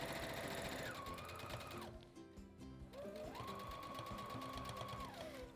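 A sewing machine running a straight seam hums steadily up close, pauses for about a second, then starts again and keeps stitching at an even speed.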